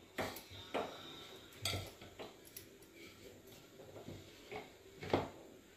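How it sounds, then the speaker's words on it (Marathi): A pressure cooker lid is set and locked shut in a home kitchen, giving several separate metallic clanks and knocks close by, with quieter handling rattles between them and no talk. "हे बघा, झाकण लागलं कुकरचं."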